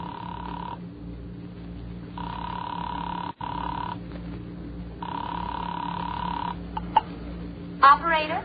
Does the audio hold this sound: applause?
no